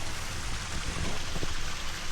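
A waterfall near a bamboo forest temple in Kyoto gives a steady, close rush of falling water with an even, unbroken roar and no voices.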